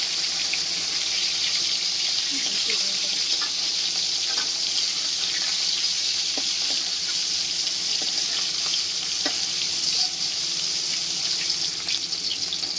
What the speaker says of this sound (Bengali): এবারে মাছগুলোকে একে একে দিয়ে ভেজে নিতে হবে।